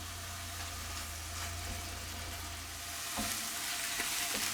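Mushrooms frying in a pan for beef bourguignon, a steady soft sizzle running throughout with a few light stirring clicks near the end, moderately faint.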